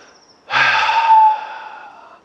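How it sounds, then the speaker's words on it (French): A single deep, guttural breath pushed out through the throat rather than the nose, close and loud, with a sharp onset, rough sustained rush of air, then a fading tail. "C'est l'air qui passe par la gorge."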